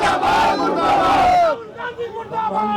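A protest crowd outside the closed JNU gate chants slogans in loud, ragged unison, then the chant breaks off and scattered shouting voices carry on more quietly.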